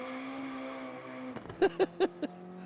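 A 1966 Toyota Stout fitted with a Judd V engine at a motorsport event drones steadily, then fires off four short, sharp revving bursts close by.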